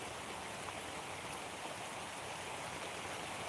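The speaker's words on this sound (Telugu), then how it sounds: "ఇక్కడ నుంచి వెళ్ళడానికి కూడా వర్షం తగ్గట్లేదు" Steady, dense rain hisses evenly throughout, with no pauses or voices.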